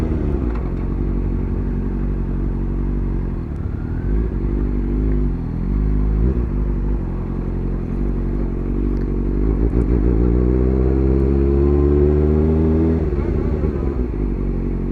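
Motorcycles rumbling at a bikers' meeting spot, including a Triumph and a Honda Fireblade, a loud continuous engine drone with rising revs and a bike pulling away near the end, under some talk.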